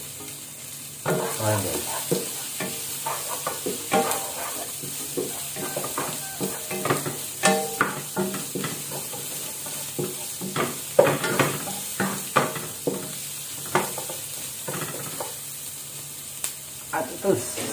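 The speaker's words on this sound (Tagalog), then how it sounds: "Isang malaking sibuyas. Lagyan natin." A large onion sizzles and fries in a pan while being stirred, with steady hissing and frequent scraping clatter from the utensil; a voice speaks briefly over it.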